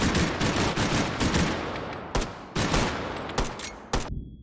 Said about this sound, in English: It's a light machine gun.